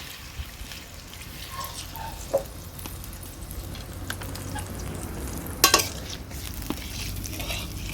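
Water poured into sizzling fried masala for a Bengali pabda fish curry, with a steady close frying hiss, scattered pops and stirring, and a sharper splash and crackle burst around the middle, no speech.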